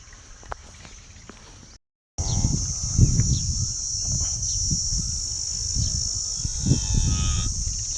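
Cows and a buffalo calf on a farm give low, rough calls under a steady drone of crickets and insects, with a few thumps and rustles from the animals close by.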